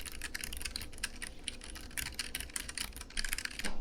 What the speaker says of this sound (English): this is what the brown switches sound like just on the keypad